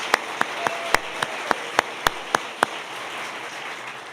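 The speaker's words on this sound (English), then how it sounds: "you guys deserve another round of applause for the work you do" Sparse, sharp claps ring out one by one at a public service award ceremony, about a dozen separate hits over a few seconds against a steady hiss of room noise, fading out toward the end.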